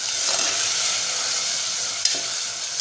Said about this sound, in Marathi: आता छान आपल्याला परतून घ्यायचं आहे.